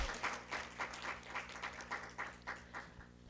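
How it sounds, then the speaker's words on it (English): Scattered, sparse clapping from a small audience at an NAACP educational forum, soft and somewhat distant over a low steady room hum, with individual claps pulsing irregularly before fading out. "You have to clap for that."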